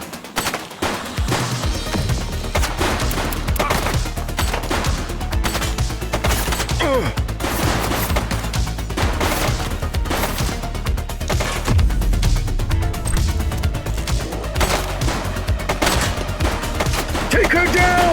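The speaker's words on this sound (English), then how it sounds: "He's shooting!" Sustained gunfire from the video game The Precinct, with dense overlapping shots and bursts continuing loudly throughout amid game effects, with faint voices at times.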